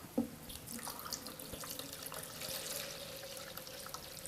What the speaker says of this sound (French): On va mettre de l'eau à l'intérieur.